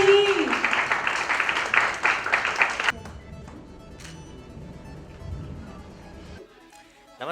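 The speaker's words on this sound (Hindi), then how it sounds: "तो प्लीज तालियां बजती रहे, तालियों में जोर बना रहना चाहिए।" Applause from the audience at the Remarkable Women's Awards 2021 ceremony rings out loudly for about three seconds, then drops away abruptly to a quieter, muffled room with scattered faint sounds.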